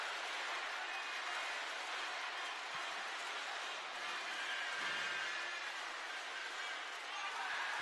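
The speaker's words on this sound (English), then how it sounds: "Listen to that crowd go wild." Crowd roaring and cheering steadily at a taekwondo world championship men's -54kg final, a dense sustained wash of noise from a large arena audience.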